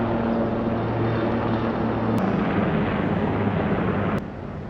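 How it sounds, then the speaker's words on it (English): Firefighting helicopter flying in to drop water on a wildfire near North Bend, British Columbia: a constant heavy rotor and engine roar with low droning hum, steady and loud throughout. "Helicopter going to drop that water."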